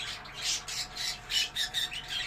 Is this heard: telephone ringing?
no